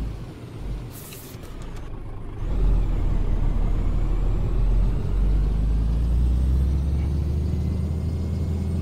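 A Scania P310 truck in a driving game: a hiss and clatter, then the diesel engine catches and settles into a loud, steady low rumble that holds to the end.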